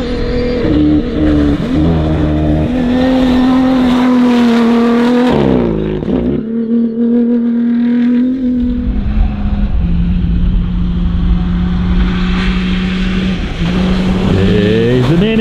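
Toyota rally cars on a Dakar desert stage race past close by, loud engines whining and rising in pitch, dipping briefly between cars, then droning on steadily.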